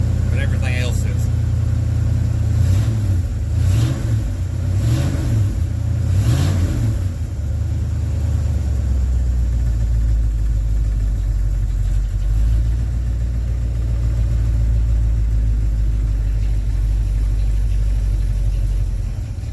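A 1967 Chevrolet Chevelle engine runs loud and close, with a few quick revs rising and falling in the first seven seconds before settling into a steady, deep rumbling idle.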